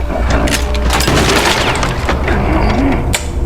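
Loud shotgun blast in the video game Little Nightmares II, a heavy booming crack close up that dominates a short, noisy stretch with rumbling low thuds around it.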